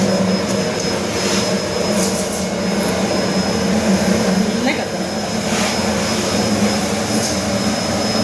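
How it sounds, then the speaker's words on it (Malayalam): Blower fan of a Coimbatore-made Pattambi wood-fired stove runs with a steady, loud whirring hum and a faint high whine, unbroken throughout, with voices faintly in the background. "അതാണ് അതിൻ്റെ ബ്ലോവർ അല്ലേ? തിരിക്കുമ്പോൾ ഇങ്ങനെ"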